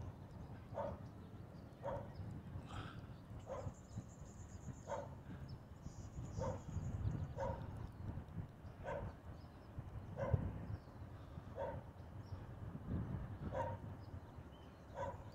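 A dog outdoors on a Southern California morning gives a steady series of short, high whimpering yips, roughly one per second, fairly faint over a low background rumble.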